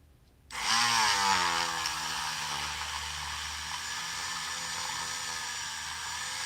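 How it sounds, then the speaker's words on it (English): A Dremel rotary tool whirs up sharply from silence, its pitch sliding as it reaches speed, then settles into a steady, loud high-pitched whine close by. "Back to the Dremel."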